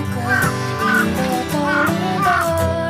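A crow caws repeatedly as it flies over the lake area at Kawaguchiko in Japan during cherry blossom season, the harsh calls coming in a loose rhythm of about four, clear and fairly close.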